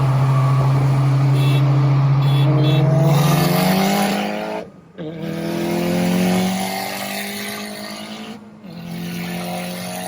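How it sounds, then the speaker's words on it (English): A turbocharged Honda Civic Si is brake boosted, its engine held loaded as the turbo spools up: a loud, sustained engine drone that climbs steadily in pitch, broken by two brief drops before it rises again. "Brake boosting and spooling turbo up, it just sounds beautiful."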